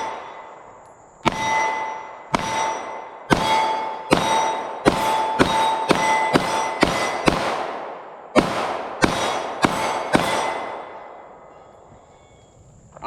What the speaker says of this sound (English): let's put some more rounds down range and just see how she performs